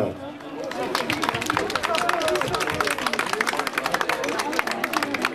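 An audience applauds painters at an afternoon art event in Godewaersvelde, a dense, sustained burst of many hands clapping under a murmur of crowd chatter.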